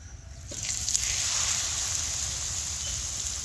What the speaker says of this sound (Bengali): তারপরে তেলটা গরম হলে আমি তেলে ভেজে নেব